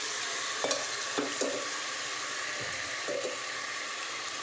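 Chicken sizzles steadily in a hot pan up close as it is sautéed with ginger and garlic, punctuated by a few sharp taps of a spatula stirring.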